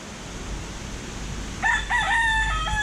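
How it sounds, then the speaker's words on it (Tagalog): A rooster crows on a farm with many chickens, one clear nearby call rising and holding in a few bursts over a steady outdoor background hiss, with no talk. "Diba ang daming manok?"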